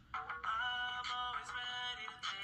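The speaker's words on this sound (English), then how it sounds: "That's my ringtone, but nobody's calling." A mobile phone rings with a bright, repeating electronic melody, close and clear, playing continuously for a couple of seconds with no voices over it.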